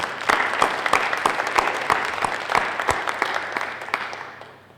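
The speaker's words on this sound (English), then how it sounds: "Give yourselves a round of applause." Audience applause at a school closing ceremony: steady crowd clapping with sharp individual claps standing out, fairly loud and continuous, tapering off at the end.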